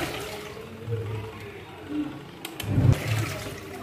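A Godrej washing machine on its normal setting washes clothes in water, giving a steady churning slosh with swelling surges and a louder splash near the end, heard up close.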